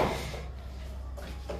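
A door is pushed shut indoors, with a short bump right at the start and another soft knock and rattle near the end over a quiet room hum.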